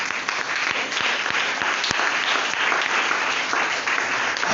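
A church congregation applauds in a dense, steady burst of clapping from many hands, loud and sustained throughout with a few sharper individual claps standing out, alone without speech.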